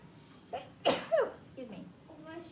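A single sharp sneeze bursts out close by, with quiet talking before and after it.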